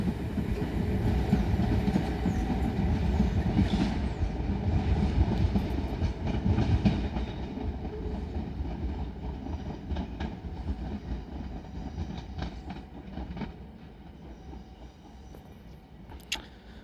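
A train rumbles through Tonbridge station on the South Eastern Main Line, wheels clicking over rail joints close by, then the noise slowly fades as the rear passes and draws away.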